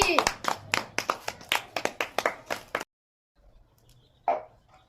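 Children clap together in a quick, lively burst for about three seconds, close and loud, then it falls quiet apart from faint background noise and one short voice.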